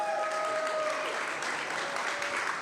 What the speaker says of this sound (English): please give one more round of applause to Ares